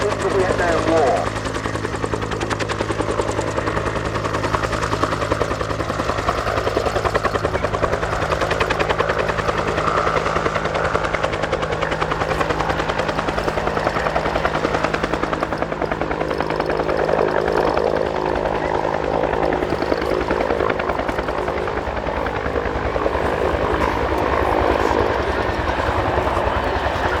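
A Bell UH-1 Huey helicopter runs at an outdoor event, its loud steady rotor thump and turbine whine continuous and near throughout, with no pause.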